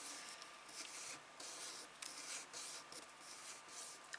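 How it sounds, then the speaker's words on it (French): Paper being creased with a finger to mark a fold while building a Harry Potter trestle album, heard as faint, close rubbing and swishing strokes in short repeated bursts. "Je vais marquer le pli ici."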